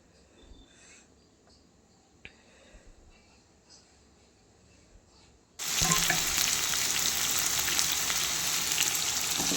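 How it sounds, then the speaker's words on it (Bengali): Potatoes with turmeric and salt frying in a pan, quiet at first with a few small clicks and faint background chirps, then a sudden loud, dense sizzle that fills the rest. "এবার আলুগুলো আমি ভেজে নেব।"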